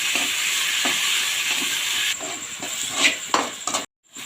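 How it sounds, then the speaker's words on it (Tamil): Ground masala paste sautéing in a pan for liver gravy gives a steady sizzling hiss with a few stirring scrapes, close and fairly loud, ending in a brief silence. "மசாலா பச்சை வாசனை போகிற அளவுக்கு நல்லா வதக்கிடலாம்"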